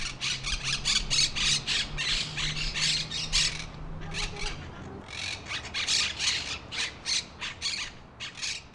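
A flock of monk parakeets squawks nearby, with rapid, harsh, overlapping calls in dense bursts that go on almost continuously. A brief lull comes about midway.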